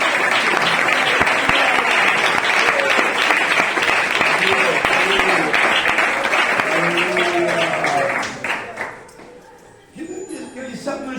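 An audience applauds loudly and continuously, with a few voices calling out over the clapping. The applause stops abruptly near the end, and quieter sounds follow.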